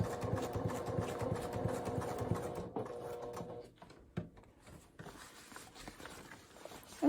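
A sewing machine stitching around a pouch, fast rapid mechanical chatter of the needle running steadily, then pausing and resuming in shorter bursts, close and fairly quiet, no talking.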